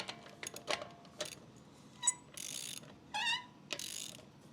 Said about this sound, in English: Then I take the ratchet and just hand tighten it.